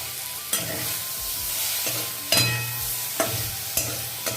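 Steamed broad beans are stirred in a pan with a sizzling undertone, irregular scraping clacks of a utensil against the metal marking four or five distinct strokes, close and fairly loud with no talking.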